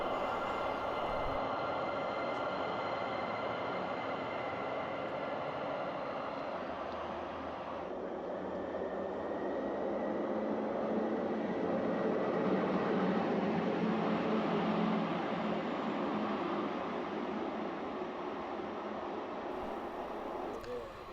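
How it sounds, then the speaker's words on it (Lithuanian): A late passenger train pulls into a cold station platform on the Vilnius–Szczecin route toward Suwałki, making a steady, broad rumble mixed with gusty wind noise that swells slightly midway and continues throughout. "Ir pagaliau atvažiuoja traukinys, vėluoja apie 15 minučių"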